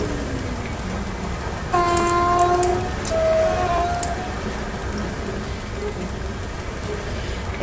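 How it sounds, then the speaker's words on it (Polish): Locomotive braking in the MaSzyna train simulator game, an EP09 electric engine: steady rolling rumble with a brief squealing, whistling brake tone rising near the start, then a continued low running noise. "Też bardzo lubię ten dźwięk hamowania lokomotywy."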